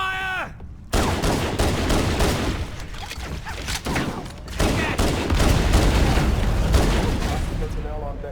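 Heavy gunfire and blasts fill a firefight in Halo: Combat Evolved Anniversary, a loud continuous mix of rapid shots and booming impacts, with voices shouting over the battle.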